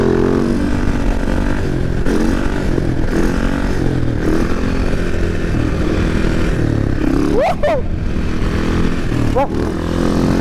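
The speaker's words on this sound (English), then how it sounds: "let's just do a wheelie here" Motorcycle engine revving hard while the rider pulls a wheelie on a wet road, a loud continuous drone with the pitch climbing sharply twice near the end.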